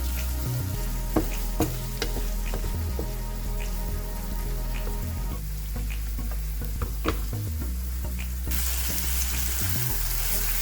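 Chopped tomatoes are stirred into okra frying in a pan, giving a steady close sizzle with soft scraping and occasional spoon taps, no voices.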